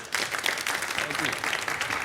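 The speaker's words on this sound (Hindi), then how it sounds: "अरे और तालियां होनी चाहिए" Studio audience applause on a Hindi TV live bidding game show, a steady wash of many hands clapping for about two seconds, with a host's voice mixed in.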